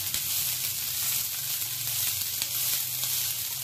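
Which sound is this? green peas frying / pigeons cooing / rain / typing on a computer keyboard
green peas frying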